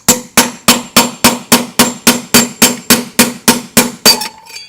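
A hammer strikes a punch against the bearing race of a Kenmore 970-c42062-00 washing machine. About fourteen loud, ringing metallic blows land in a steady, evenly spaced rhythm close by.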